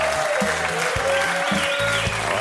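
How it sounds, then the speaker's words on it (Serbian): A studio audience at a televised quiz show claps for the competing teams, giving a dense, even burst of applause that fills the short moment at full volume. "Molim jedan aplauz za naše timove!"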